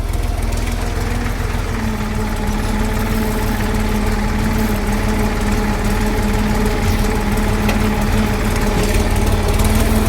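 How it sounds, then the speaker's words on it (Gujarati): A tractor engine runs loud and close while unloading manure in a field, a steady rumbling drone with a rapid throb that holds unchanged throughout. "આપણું બીજું ટ્રેક્ટર ખાલી થાય છે"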